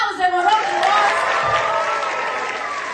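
Audience clapping and cheering at the close of a theatre troupe's show staged in a prison, a fairly loud and steady burst of applause with a few voices over it.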